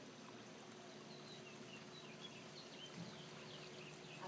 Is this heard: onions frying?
no